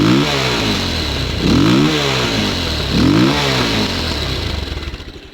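A Bajaj Pulsar 220 motorcycle's exhaust is revved up close, three loud rising and falling throttle blips over a steady idle rumble, fading near the end.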